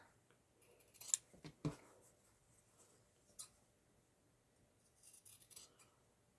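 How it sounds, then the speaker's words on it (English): Several crisp snips of scissors trimming fabric seams, close and fairly quiet, with short pauses between the cuts and near silence otherwise. "I'm just going to go ahead and use my scissors to make it quicker."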